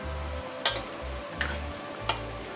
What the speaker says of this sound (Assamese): এতিয়া গ্ৰেভিখন লৰাই দিম।